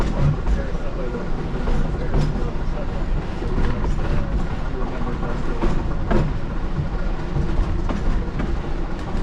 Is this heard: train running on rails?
yes